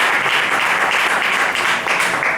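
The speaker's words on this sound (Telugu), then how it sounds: "please give a big round of applause" A large audience gives a loud round of applause for a performer at a Rukmini Kalyanam stage event. Dense, continuous clapping fills the whole stretch, close and even, with no talk over it.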